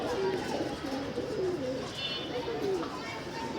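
Racing pigeons coo softly at a rooftop loft, several low repeated coos rising and falling against a steady outdoor background.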